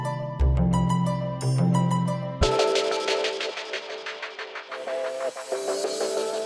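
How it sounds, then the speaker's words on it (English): Music generated by translating solar activity into sound: layered tonal pulses and rhythmic plucked-like hits, dense low notes at first, then a brighter shimmering texture of repeated beats, with no voices. "This music was generated by the sun."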